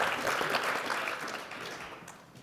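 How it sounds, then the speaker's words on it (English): Audience applause for a panel of speakers at a student event, a steady wash of many hands clapping that fades gradually toward the end. "Can we give these amazing panelists another round of applause?"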